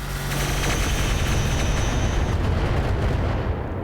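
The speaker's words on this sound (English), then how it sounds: "they're actually shooting their own base" Turrets in the RogueTech BattleTech game fire on their own base, a dense, loud, continuous barrage of booming blasts and rumbling impacts with no voices.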